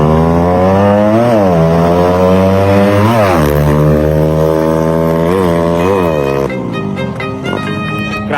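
A loud, close propeller-driven aircraft buzzes past with a rasping motor whine whose pitch rises and dips repeatedly, then drops and fades in the last seconds.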